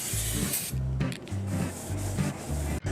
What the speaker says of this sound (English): hit it with a little bit of brake cleaner and a paper towel and clean them up